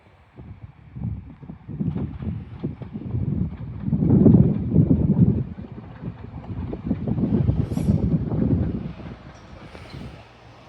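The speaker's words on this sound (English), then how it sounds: "Arriving in now is terminating Northern Trains 195 from Leeds via Garforth." Northern Trains class 195 diesel multiple unit arriving at York station on the East Coast Main Line, a low rumbling approach that swells and fades steadily over several seconds with wind noise on the microphone.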